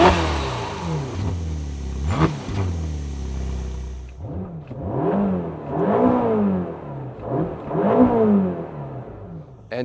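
A Ferrari Amalfi with a purely combustion engine and no electrification revs hard and close, then blips repeatedly through rising and falling pitch sweeps, loud and alone.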